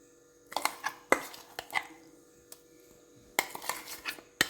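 A spoon scrapes and clinks against a bowl as ground mustard, turmeric, salt and chili paste are mixed into a homemade mahali kilangu root pickle, giving irregular close knocks and scrapes separated by short pauses.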